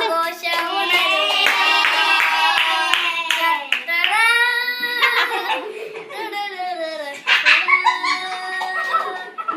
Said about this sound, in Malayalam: കൂട്ടുകാരൻ പാടുമ്പോ ബാക്കിയുള്ളവർ പ്രോത്സാഹിപ്പിച്ചു കൈയടിച്ചു